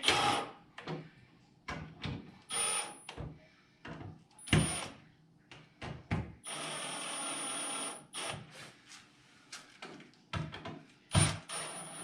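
A power driver drives screws back into a wooden skid house in short bursts of whirring, with one longer run, separated by quiet pauses and light clicks of handling.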